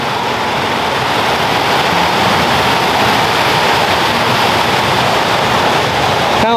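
The 90 ft Pearson's Falls waterfall in North Carolina gives a loud, continuous rushing roar of falling water, steady and close throughout with no talk.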